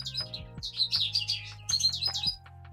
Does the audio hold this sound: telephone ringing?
no